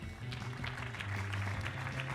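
Applause for a panel speaker at an insurance industry conference, a dense, steady patter of many hands clapping that stays moderately loud through the whole stretch, with a low hum beneath it.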